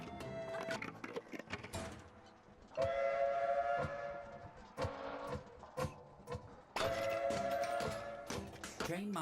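Train-shaped robot, the Mark 1 Supertransporter in the game Figment, powering up with bursts of whistle-like tones and mechanical clanks in an uneven rhythm over background music, with a voice speaking partway through.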